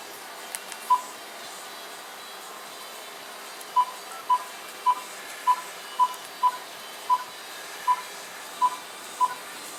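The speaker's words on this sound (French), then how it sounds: "je vais prendre un téléphone maison. Et puis, je vais appeler sur mon téléphone cellulaire" A home telephone dials a cellphone number, giving a series of short, evenly spaced DTMF beeps: one lone tone, a pause, then about ten quick tones over a steady low hiss. No one speaks.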